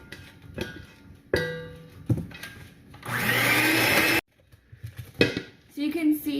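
An electric mixer creams butter with sugar for apple cider whoopie pies, giving a loud, steady whir for about a second, with clinks and bumps from the bowl around it and a voice talking nearby.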